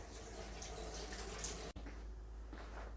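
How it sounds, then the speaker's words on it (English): A knife rinsed under a running kitchen tap, quiet steady water flow and splashing that briefly cuts out and then continues more softly. "I'm gonna rinse my knife off again"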